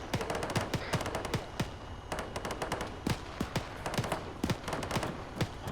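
Rapid bursts of automatic gunfire and scattered single shots crackle through a combat scenario in the video game Arma 3, dense and fairly distant, with irregular volleys throughout and no talk.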